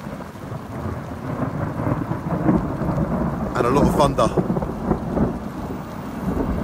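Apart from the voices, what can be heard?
thunder during a thunderstorm with rain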